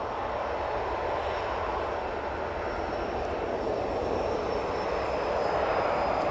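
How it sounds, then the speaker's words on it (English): A TUI airliner descends to land at Manchester Airport, its engines a steady broadband roar that holds evenly and swells slightly toward the end. "TUI in the plain Jane livery is now coming down"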